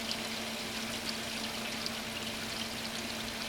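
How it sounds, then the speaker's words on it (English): Water pours steadily into an aquaponics grow bed running on a timer, a continuous, fairly faint splashing stream with a steady hum beneath it and no speech. "We now have water into the grow bed on a timer, or manually."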